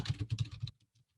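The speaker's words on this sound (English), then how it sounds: "And I'm typing because I'm typing a quote that I love that's about creating stuff." Rapid keystrokes on a computer keyboard, close and fairly soft, a quick burst of about six clicks that stops abruptly and leaves near silence.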